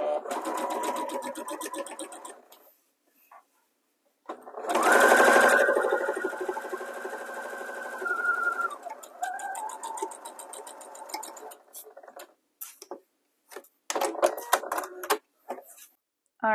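A sewing machine stitches jelly roll strips for a quilt top in loud, close bursts of rapid whirring, stopping and restarting, with short clicks and handling noises in the quieter gaps.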